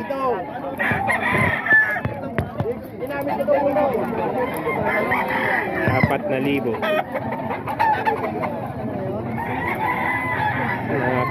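Roosters held for sale in the Philippines crow and cluck nearby, several birds overlapping in loud calls while someone talks throughout.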